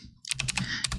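Rapid typing on a computer keyboard, a quick, close burst of clattering keystrokes with no speech.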